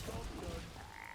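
A frog croaks in the card game Hearthstone, a short, raspy, low croak at fairly low volume that blends into the surrounding game audio.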